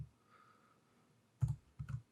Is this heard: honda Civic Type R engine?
no